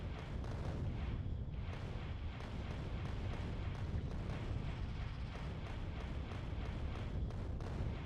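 Rockets firing and exploding in Factorio, a dense, continuous barrage of overlapping booms and blasts with rapid irregular bursts sustained throughout, loud and crowded with no pause.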